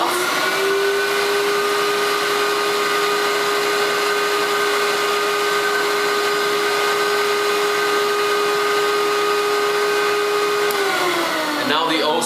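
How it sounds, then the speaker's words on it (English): A Nitty Gritty record cleaning machine vacuums a vinyl record with a loud, steady whine that holds an even pitch for about eleven seconds, then winds down near the end. "now I will flip that over and vacuum that off"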